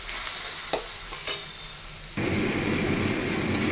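Soaked turmeric and chili paste is sautéed for a crab curry. After a few scrapes of the spoon, the paste hits the hot pan and a loud, steady sizzle takes over.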